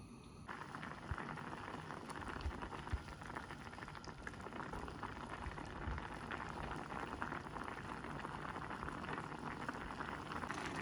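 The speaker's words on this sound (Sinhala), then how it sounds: "දැන් ලිප පත්තු කරලා වහලා පොඩ්ඩක් තැම්බෙන්න තියන්න ඕන." Parippu lentils boil in a covered pot on the stove, with a continuous dense bubbling and hissing that stays steady and close for the whole stretch, without any talking.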